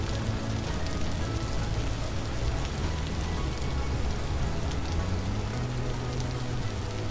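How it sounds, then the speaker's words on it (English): Rain in Vintage Story pours down steadily, a dense, even hiss of drops striking surfaces that lasts throughout without a break, with a faint low tone under it and no talk. "We're gonna meditate in the rain, guys."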